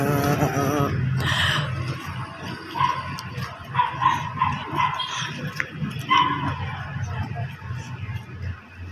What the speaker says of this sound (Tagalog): Naku, may aso. Kahit saan pala ako pumunta, may aso.